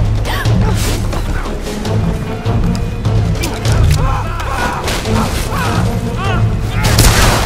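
Loud, dense gunfire and booming impacts from a gun in the Tomb Raider video game, repeated bursts running steadily throughout with no pauses, a voice occasionally cutting in over the noise.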